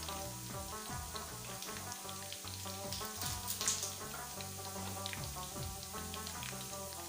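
Ingredients for aloo palak frying in a pan, a steady, soft sizzle with scattered crackling pops continuing for several seconds, fairly quiet and with no voice over it.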